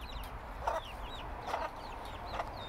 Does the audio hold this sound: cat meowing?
no